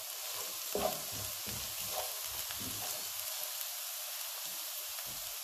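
Onion sizzling in a frying pan with aubergine, a steady soft crackle with occasional louder pops and stirring scrapes, fairly quiet and close, no voices.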